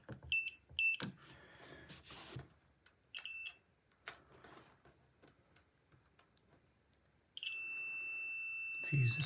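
A multimeter on its continuity setting, testing a fuse, gives several short high-pitched beeps, then one longer sustained beep, amid soft handling noises and quiet speech.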